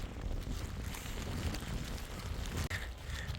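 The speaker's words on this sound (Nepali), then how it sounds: "हावा डेन्जर आइरहेछ" Strong wind on a mountain trek in Nepal gusts across the microphone as a steady, rough roar, close and buffeting, with no talk.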